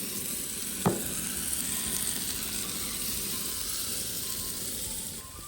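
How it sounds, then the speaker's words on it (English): Bacon sizzles and crackles steadily on a hot blackstone griddle, a dense frying hiss with one brief scrape near the start, no talking. "Ooh, listen to that sizzle."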